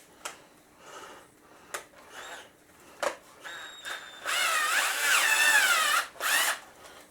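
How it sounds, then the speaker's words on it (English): A cheap Michigan Industrial Tools cordless drill with a weak battery whirs in one sustained burst of a couple of seconds, then a shorter run, amid clicks and handling knocks, close by with no talk. "it's not the most powerful drill in the world"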